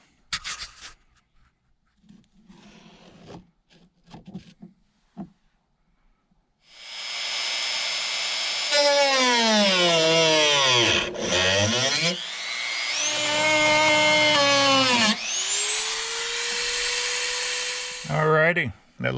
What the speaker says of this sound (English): gotta use a Dremel